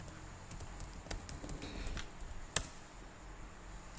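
Quiet, irregular tapping of keys on a computer keyboard, with one sharper keystroke partway through; no voices.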